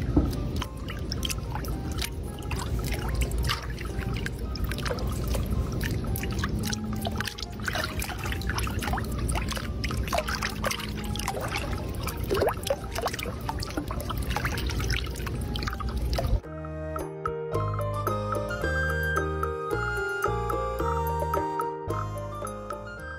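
Warm water trickles and splashes continuously while a reborn baby doll is bathed, close and fairly loud, then gives way near the end to soft tonal background music with no speech.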